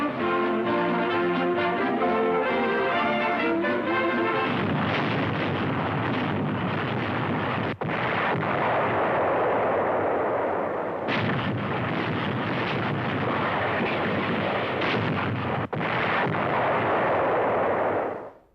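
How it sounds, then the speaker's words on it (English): Heavy artillery shelling and bombardment of a besieged old fortress held by German troops in World War II, a continuous loud roar of explosions and gunfire with a few sharp breaks, no voices. "Heavy bombing and shelling finally ends the siege."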